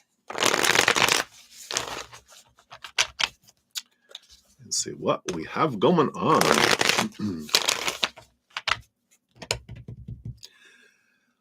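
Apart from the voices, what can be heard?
shuffling tarot cards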